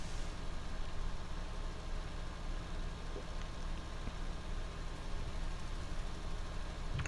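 An older, used tractor idles steadily in a farming video game, giving a constant low engine rumble and hum that carries through the whole stretch with no break.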